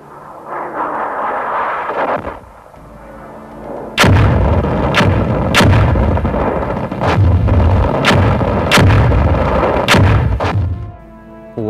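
ATACMS tactical missile strike, a dense run of sharp, loud, rapid explosive bursts close by, preceded by a sustained roaring rush, with no speech.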